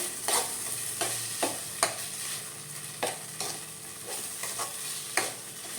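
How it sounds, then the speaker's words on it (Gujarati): Sabudana and potato khichdi is sautéed in a pan, with a soft sizzle under repeated scraping and stirring strokes of a spoon against the pan. "સેજ સોતે કરી લઈશું"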